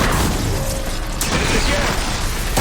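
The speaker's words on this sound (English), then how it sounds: "Let's smash these machines." Mechanical clanks, grinding and impacts from robotic machines being smashed in Horizon Forbidden West, a dense, continuous metallic clatter with a sharp burst near the middle, with no one speaking.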